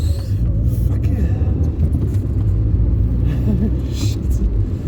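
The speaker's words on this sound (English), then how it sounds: "Car turned right into a one-way street and went the wrong way." A car drives along a road with a steady, close engine rumble and road noise that holds throughout. There is no clear acceleration or passing peak.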